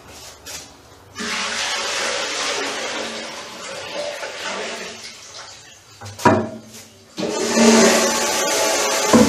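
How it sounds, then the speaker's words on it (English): Rinse water for hand-washed laundry runs in a bathroom inside an RV, a steady broadband rush of flowing water that starts after a short pause, dips briefly with a thump, then resumes strongly to the end. "we'll get some rinse water going"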